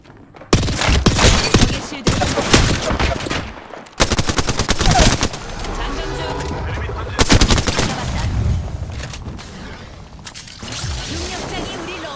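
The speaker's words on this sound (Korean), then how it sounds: "날 쏘고 있잖아." Loud bursts of rapid automatic gunfire in a first-person shooter video game, several long volleys separated by short pauses, with game voices speaking between them.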